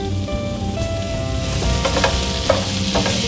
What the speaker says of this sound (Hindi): इसे अच्छे से अब हम मिला देंगे।